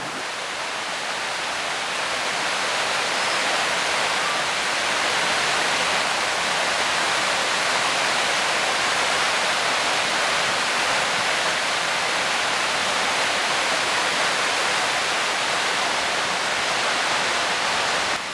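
Waterfall on the West Prong of Hickey Fork roars in a steady, broad rush of falling water, even and continuous throughout with no voices.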